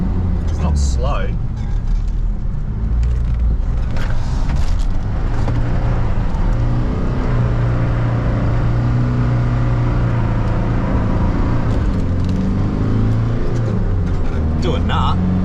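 Holden Rodeo TF ute with front-mount intercooler and custom intake plenum accelerating flat out in third gear, a loud steady engine drone rising in pitch, with someone talking over it.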